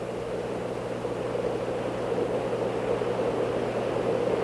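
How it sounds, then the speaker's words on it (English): A steady, even rush of air slipping past the cabin of a Convair 880 jet airliner in flight, with a constant low hum beneath and no talk. "The only sound you hear is from the air that is slipping by outside."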